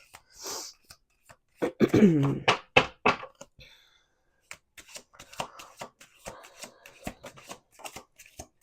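Playing cards are riffled and bridged in a quick flurry, followed by softer shuffling and light tapping of the deck.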